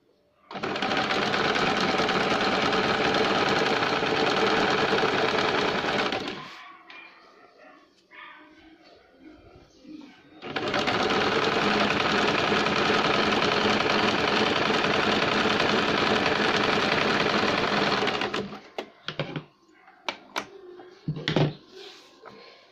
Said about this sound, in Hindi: इस तरह से फोल्ड करके यहाँ से सिलाई लगाएंगे